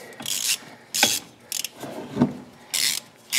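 Close ratcheting clicks in short bursts as bolts are tightened evenly on a Kubota RTV 900 utility vehicle CV axle, with pauses between pulls of the wrench and no talking.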